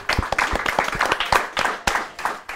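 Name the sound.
audience applause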